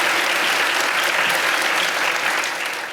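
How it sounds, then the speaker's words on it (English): A conference crowd claps in dense, sustained applause for a panel, holding steady and beginning to fade slightly toward the end. "A big round of applause, please, for everybody on the panel."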